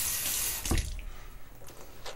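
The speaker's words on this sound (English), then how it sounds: "let's add some water" Water runs from a tap in a strong, steady hissing flow that briefly surges with a splash, then keeps running more softly, close by with no talk.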